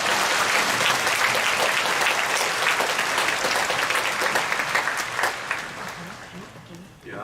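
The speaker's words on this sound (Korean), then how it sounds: "우리 아이들을 위해서도 한번 박수 치겠습니다" A church congregation at an early-morning revival service claps for the children, a sustained crowd applause that fades toward the end.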